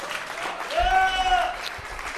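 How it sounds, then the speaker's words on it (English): Audience applause at a live show, a short burst of clapping rising and fading over a couple of seconds, mixed with a voice speaking over it. "How about another round of applause for Sean Hatton?"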